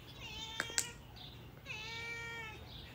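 A cat meows indoors in a friend's house, a few short cries close by: two sharp chirps early, then a longer drawn-out meow trailing off, over a low steady room hum.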